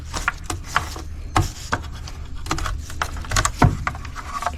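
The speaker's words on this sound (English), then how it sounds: "here comes our old valve cover gasket" An old, hardened valve cover gasket is pulled free from a Kia Soul engine, giving a series of scraping, rubbing and clicking sounds at irregular intervals, close up.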